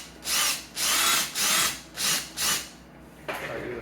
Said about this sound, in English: oh, my drill bit's not tight enough. Let's try it again.